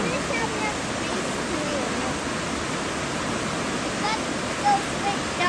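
Clayton Falls seen from a bridge gives a steady, loud rush of falling water, a broad, unbroken roar filling the scene without pause.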